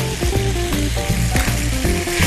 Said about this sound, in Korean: 자, 그렇게 해서 골고루 볶아주시면 쇠고기 배추볶음이 완성이 됐습니다.